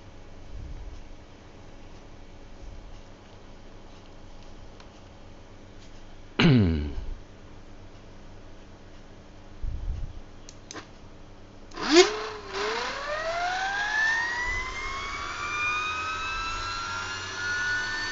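An old rotary inverter motor built around 1952 runs up to high RPM, its whine rising and sweeping upward in pitch after a sharp onset, with steady tonal hum and a few brief clunks beforehand.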